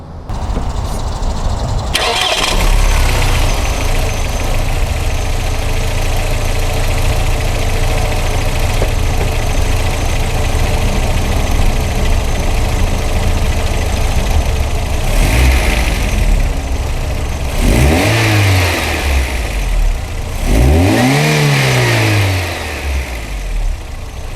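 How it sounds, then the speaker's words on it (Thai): A Volkswagen Passat B4 mid-size sedan engine cranks and catches after a couple of seconds, then settles into a steady, loud idle, with a few throttle blips rising and falling in pitch near the end. "มาฟังเสียงเครื่องยนต์กัน"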